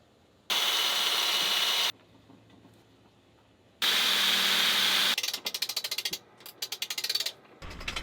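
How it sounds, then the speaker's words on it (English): Power drill boring bolt holes on a 40-year-old sailing boat, two long steady bursts of high whine followed by a run of short rapid pulses, close and loud with no talk. "let's get some holes drilled"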